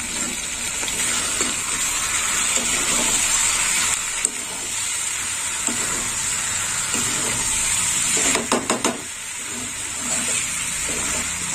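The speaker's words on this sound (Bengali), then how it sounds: "আর একটু কষে নেব।" Boiled prawns, cooked earlier with chilli and turmeric, stir-fry with vegetables in a pan, giving a close, steady hiss of sizzling. A few quick spatula clatters cut in briefly.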